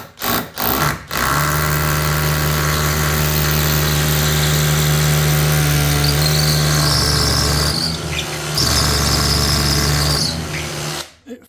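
A power drill with a 6mm bit bores holes for screws in a kitchen pantry extension build. A loud sustained grinding whine runs for about ten seconds with a brief dip midway, bracketed by short knocks.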